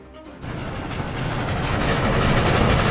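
The 1947 passenger train Red Arrow runs along the rails, a dense rumbling roar that swells louder over a few seconds with faint rhythmic clatter of wheels, no voices.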